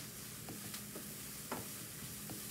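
Beans sautéing with cumin in a pan give a low, steady sizzle, with a few faint scrapes and ticks from stirring spaced through it.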